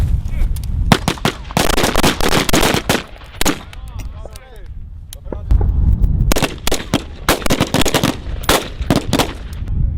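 Rifles fire at a military rifle range, with rapid overlapping sharp cracks in bursts, loud and close, pausing briefly midway while a voice speaks.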